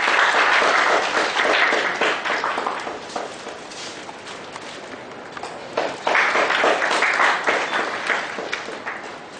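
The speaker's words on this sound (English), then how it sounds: "Big round of applause, ladies and gentlemen." Audience at a seminar for chartered accountants giving the speakers a big round of applause, loud sustained clapping that dips briefly midway then swells again.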